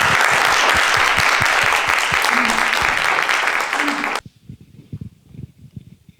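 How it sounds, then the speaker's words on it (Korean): At a forum event, an audience applauds to welcome a retired navy admiral, producing loud, dense clapping for about four seconds that cuts off abruptly, followed by a few soft thumps like footsteps. "그러면 다 같이 박수로 김혁수 제독님 모시도록 하겠습니다"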